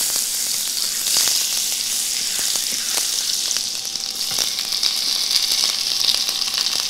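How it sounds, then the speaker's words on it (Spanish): Red and white onions frying in butter in a pan, a loud, close, continuous hissing sizzle with faint crackles and occasional stirring ticks, no voices. "Ponemos la mantequilla y aquí ponemos las cebollas"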